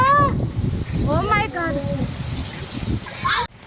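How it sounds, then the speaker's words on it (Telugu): Steady heavy rain pours down in Hyderabad with a broad hiss, while a few voices speak briefly over it near the start and middle. "చూడండి ఎంత వర్షం ఉంది అసలు టూ మచ్ రైన్ ఉంది"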